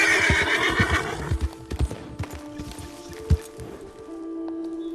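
A horse in the Red Dead Redemption 2 video game lets out a loud, close whinny after being struck, followed by clip-clopping hooves and a couple of sharp thuds, with no talking.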